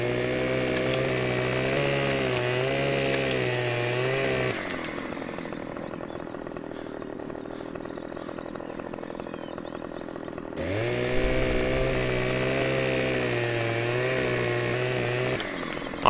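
Chainsaw in Farming Simulator 17 cutting a tree, a loud steady engine drone under load that drops to a lighter idling buzz midway, then revs back up into heavy cutting for the final seconds.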